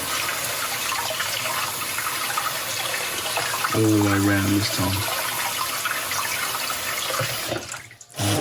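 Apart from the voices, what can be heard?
cold water poured over a glass bottle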